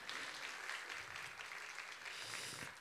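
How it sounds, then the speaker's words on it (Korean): A church congregation applauds in encouragement after a sermon introduction, a steady wash of many hands clapping at moderate level throughout, with no talk over it. "다시 한번 우리 큰 박수로 우리 격려하겠습니다."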